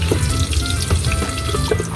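Fish fries in a pan, a steady loud sizzle and crackle running unbroken throughout with no voices over it.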